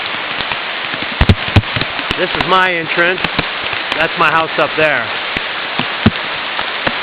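Steady rain falls outdoors with a dense patter and scattered sharp drops hitting nearby surfaces, while someone talks over it.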